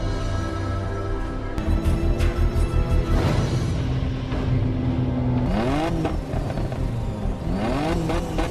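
Race cars rev hard at the start of a mountain downhill drift race in a film: several engines roar loudly together, then rise in repeated climbing revs and gear changes, with faint tire noise in the mix.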